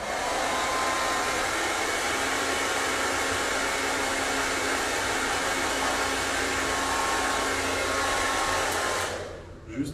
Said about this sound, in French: Juste un peu avec le sèche-cheveux sur froid pour éviter que ça s'évapore de trop.